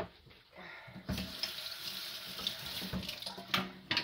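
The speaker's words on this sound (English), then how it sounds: "I'm just going to strain this, dump this, and just rinse it" A jar is rinsed under a kitchen sink tap, with running water splashing and gurgling close by for about four seconds and no talking.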